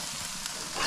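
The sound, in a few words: burgers frying on a grill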